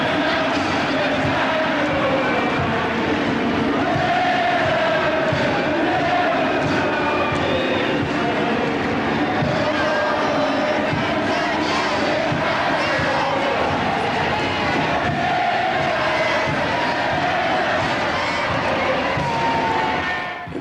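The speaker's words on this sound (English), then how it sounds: "Everywhere that you looked were small boats packed with people to cheer us in." Crowds packed into small boats cheer a ship returning from the Falklands War, a continuous roar of many voices and shouts rising and falling, loud and sustained throughout.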